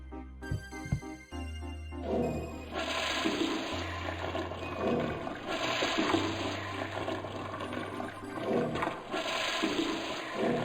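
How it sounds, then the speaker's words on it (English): A toilet flushes in a retro adventure video game. A few thuds come first, then a long gurgling, rushing swirl of water that drains and refills, heard close with no voices. "At least the toilet is flushed."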